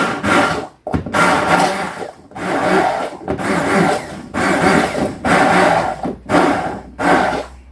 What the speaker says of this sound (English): I'm going to just blitz this down a little bit just to get rid of the chunkiness of the tomato